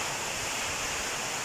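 Strong typhoon wind and rain under a Signal No. 3 storm in Nueva Ecija, a dense steady roar of rushing air and downpour, loud and unbroken, with no voices.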